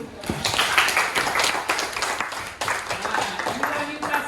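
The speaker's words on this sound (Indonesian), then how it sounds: "terima kasih tepuk tangan" A classroom of students clapping their hands in applause, a close, dense patter of claps running for several seconds, mixed with voices.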